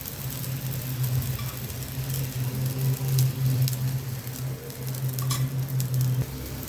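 An aloo paratha fries in oil on a pan, producing a soft, continuous sizzle with occasional small crackles over a low steady hum. No one speaks.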